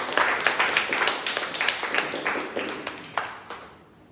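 A small group at a Toastmasters meeting claps together for a few seconds, the quick uneven claps thinning out and fading toward the end.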